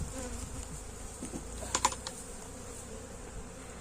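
Honeybees droning steadily around the hives at a honey harvest outdoors, a continuous close buzz with a couple of brief sharper clicks partway through.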